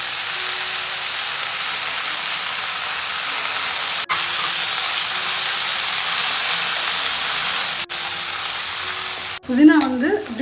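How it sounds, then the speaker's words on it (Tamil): Tomato sizzles and fries steadily in a hot pan for a chutney, with mint leaves just going in. The hissing stays loud and continuous, broken by a couple of brief dips, and the sizzle ends in a short burst of bubbling and stirring. "இப்போ நம்ம புதினாவை சேர்த்துக்கலாம்."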